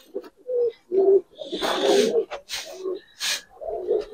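Giribaz pigeons, let go by hand, give soft repeated coos close by, broken by several sharp, noisy bursts of wing flapping as they take off.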